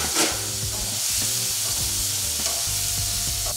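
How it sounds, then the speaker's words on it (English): Shrimp pan-frying in olive oil gives off a steady bright sizzle with stirring scrapes, over low tonal background music, with no voices. "In the olive oil, I'm going to pan fry the shrimp first."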